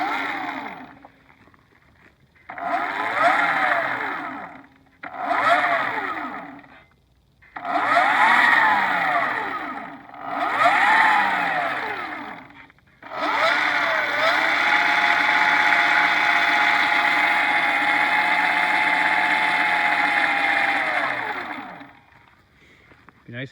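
An Electric Motion EM 5.7 electric motor whining under throttle, rising and falling in short bursts before holding a long steady high-pitched run, then spinning down; loud and close.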